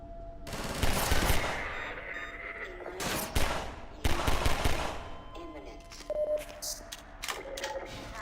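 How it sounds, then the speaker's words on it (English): Rapid bursts of minigun fire in a video game, loud and close, arriving in several clustered volleys with short gaps and sharp mechanical clatter, partly under a voice speaking. "it's a freaking minigun"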